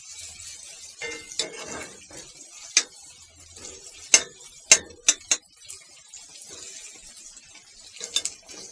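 Rice frying and being stirred in a home kitchen pan, with a run of sharp metallic scrapes and clinks from the spatula against the pan, close and fairly loud, spaced irregularly over a soft background.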